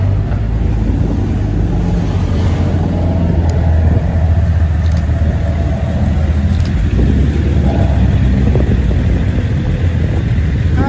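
A classic Ford and a Nissan R34 leaving a car meet in pouring rain pass close by, their engines rumbling loudly and steadily under heavy rain and road noise for about ten seconds.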